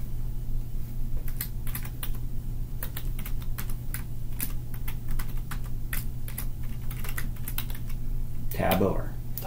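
Rapid keystrokes on a computer keyboard while filling in a price posting bulk upload template, clicking in irregular bursts over a steady low hum, with a brief voice near the end.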